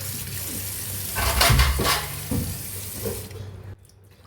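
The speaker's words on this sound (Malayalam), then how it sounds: "അങ്ങനെ നമ്മൾ മുളക് ബജി ഇവിടെ കഴുകി വെച്ചു" Water runs from a tap and splashes as chillies are rinsed underneath, the flow swelling and shifting before cutting off near the end.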